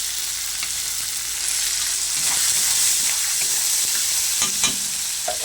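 Chopped tomato and salt sizzle loudly in cooked masala for chickpea ghugni, a dense, steady frying hiss with spoon scrapes and stirring knocks near the end.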